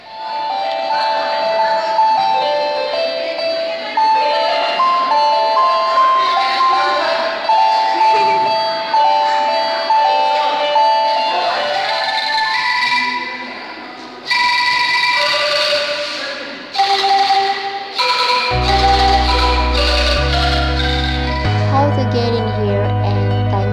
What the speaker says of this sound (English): This music instrument, even though doesn't have string, but it still can be played.